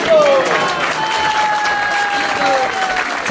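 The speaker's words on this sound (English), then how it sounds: "Big round of applause" Steady applause from a festival audience at a Janmashtami celebration, dense continuous clapping with some background voices, even and fairly loud across the whole stretch.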